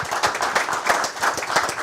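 An audience breaks into applause at an evening talk on investing, a brisk run of hand claps from a modest crowd, close and fairly loud, carrying on evenly with no talk over it.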